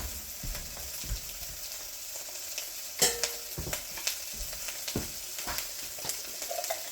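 Garlic sizzling in a pan for fried rice, a constant crackling fry with sharp clicks and scrapes from stirring, close and fairly quiet, no speech.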